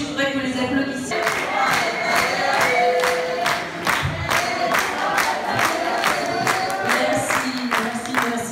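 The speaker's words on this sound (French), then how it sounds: "je voudrais que vous les applaudissiez" A crowd at a French conscripts' celebration for the classes ending in 7 claps and cheers loudly, with sharp rhythmic clap bursts and shouted cheers running for several seconds and no talk over them.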